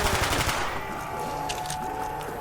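Rapid automatic gunfire in the Call of Duty zombies map Ascension, a dense loud burst of shots in the first half that thins into fainter game sounds and ringing tones.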